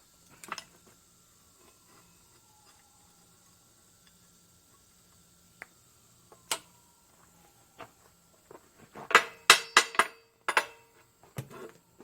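A hammer taps a metal piece clamped to a workbench: a quiet stretch with a few isolated knocks, then a tight cluster of sharp metallic strikes near the end, close and fairly loud.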